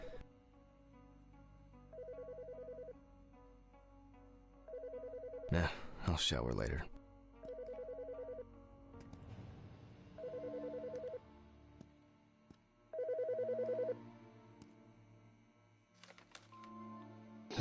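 A telephone rings in repeated bursts of a tonal ring, loud and near, with pauses between them, alongside other room noises and someone speaking briefly.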